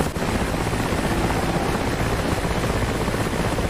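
Mi-8 helicopter in the DCS World combat flight simulator setting down at a forward arming and refuelling point on North Tinian, a loud, steady rotor and turbine roar filling the whole clip with no voices.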